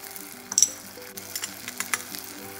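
Garlic ginger paste with jeera and coriander powder sizzles in a pan, a soft steady fry broken by light scrapes and clinks of a spoon stirring, close and quiet.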